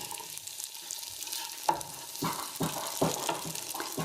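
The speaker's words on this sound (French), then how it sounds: "le tofu continue à griller" Tofu fries and browns in a pan with a steady close sizzle and crackle, broken by several sharper clatters, as though pieces are being stirred or turned, with no one speaking.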